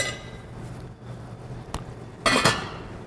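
A lid goes onto a pot of rice pilaf on the stove, giving a brief metallic clink followed by a louder clattering clank of metal on metal against a quiet kitchen background.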